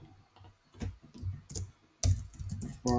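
Quick bursts of typing on a computer keyboard, a handful of close, crisp key clicks in irregular clusters with brief pauses between them.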